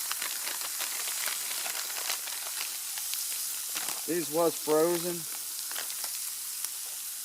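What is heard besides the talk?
onion and bell pepper frying in a stainless steel pan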